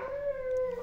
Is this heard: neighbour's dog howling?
yes